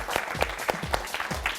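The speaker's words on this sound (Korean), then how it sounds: "박수 한번 칩시다." A short burst of audience applause at a lecture on dating psychology, fairly loud, with rhythmic clapping from a crowd that lasts under two seconds.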